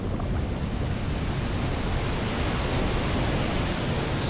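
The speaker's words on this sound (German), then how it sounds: "Sehr schön, das Wasser steigt." Water rises in the fish game I am Fish, a loud, steady rushing wash with no break and no voices.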